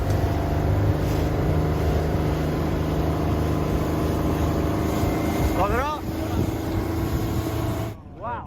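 Motorboat engine droning steadily during a boat ride, a loud continuous hum with wind and water noise, briefly interrupted near the end by a sharp rising whine and a dip in level.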